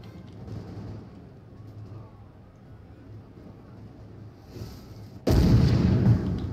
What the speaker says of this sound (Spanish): Ahí está nuestra artillería con la metralla